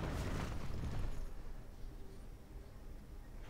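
Heavy artillery blasts rumble in a Lord of the Rings–style strategy game siege at Fornost, a loud burst of booming impacts up front settling into a dense, continuous low rumble of distant battle.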